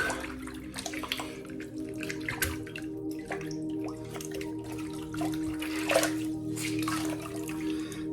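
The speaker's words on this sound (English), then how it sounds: "Put the brush down in the water to soak." A shaving brush is set down into water to soak during a straight razor shave, with steady running water and light splashing close by.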